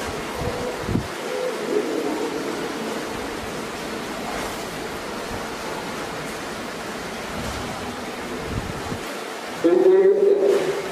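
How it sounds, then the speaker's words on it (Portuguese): Wind buffets the microphone outdoors at night as a steady, broad rushing roar that swells louder near the end, with no other clear sounds. "Não sei se esse vento também vai estar atrapalhando um pouco."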